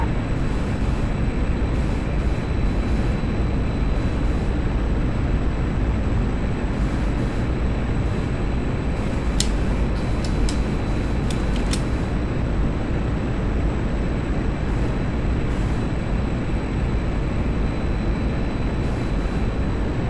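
A MiG-21 jet in a flight simulator game roars steadily and loudly throughout, a dense continuous engine drone with a few brief high-pitched tones near the middle.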